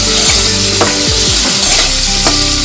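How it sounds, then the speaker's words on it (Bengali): Potatoes with turmeric and salt fry loudly in hot oil, a dense close sizzle broken by several sharp metallic clanks and scrapes from a spatula stirring the pan. "আলুটাকে ভেজে তুলে রাখবো।"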